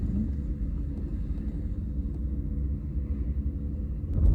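Low, steady engine rumble from a 1992 Cadillac Eldorado under way on a drive, a continuous close drone with a slight swell toward the end and no talking.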